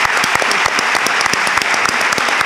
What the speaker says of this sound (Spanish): Un aplauso al público.